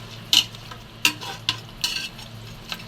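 Ingredients for a beef soup sautéing in a pan: a steady low sizzle with several sharp, close scrapes and clinks of a spoon stirring against the metal, spaced irregularly.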